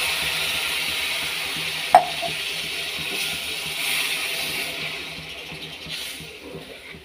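Water poured into a hot pan on a home stove sets off a soft, continuous sizzle and bubbling hiss, with one sharp clink of utensil against pan early on, fading gradually toward the end.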